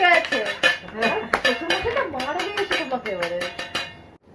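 Plates and bowls clatter and clink against each other in a home kitchen after a late dinner, a run of close, sharp metallic and ceramic knocks with a voice that seems to be singing or talking throughout.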